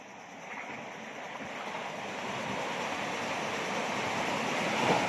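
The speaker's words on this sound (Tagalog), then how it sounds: "Ang lakas ng alon" Waves surge and crash in a continuous roar of rushing water, growing gradually louder, with wind buffeting the microphone.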